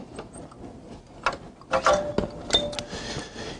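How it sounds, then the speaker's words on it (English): Several small clicks and mechanical rattles as screws come out and a plastic cover lifts off a decentral drive unit, faint and close, with no talk. "After removing 4 screws here on this plastic cover and removing"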